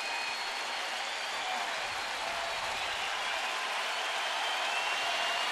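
Just over 31,000 Indians fans at a baseball game rise to their feet and applaud: a broad, steady wash of distant clapping and crowd noise holding at one level throughout.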